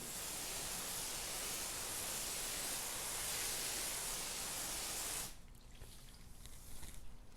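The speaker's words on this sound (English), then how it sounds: "compare the non-clean glass to the clean glass with the water hose" A water hose sprays steadily onto car windshield glass, producing a loud, even hiss of spray that cuts off abruptly after about five seconds, leaving faint dripping and runoff.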